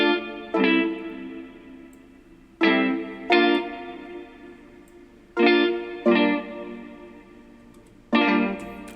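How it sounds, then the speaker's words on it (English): Layered synths and jazz guitars, with the synths panned right and the guitars panned left, playing sustained chords that enter in repeated swelling strikes, heavy with effects and reverb and no voices. "So the layer synths all together with the jazz guitars, they all sound like this."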